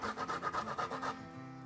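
Fresh ginger, a thumb-sized piece or smaller, rubbed across a fine grater in quick rhythmic rasping strokes, about eight close, steady scrapes then a softer tail.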